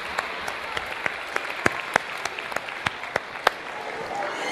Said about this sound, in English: Let's give those people a big round of applause.